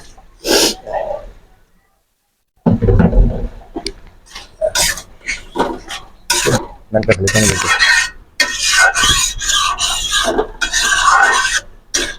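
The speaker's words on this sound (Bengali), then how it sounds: "টমেটো দেওয়ার পর আমাদের কষানো শেষ হলো" Tomatoes being stir-fried in a pan for a Bengali-style tilapia fish curry: a spatula scrapes and stirs in irregular bursts, loud and close, with one short silent gap early on.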